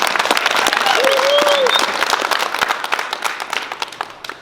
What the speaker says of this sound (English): May we give our extraordinary GOGI celebrities a round of applause.